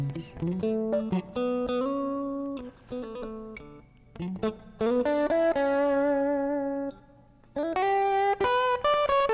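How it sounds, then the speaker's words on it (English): Electric guitar notes and chords through the Airwindows ChimeyGuitar2 plugin ring out with a fuzzy, buzzing overtone and squeezed, even sustain, played in short phrases with brief pauses. "you start hearing a sort of fuzzy overtone on there"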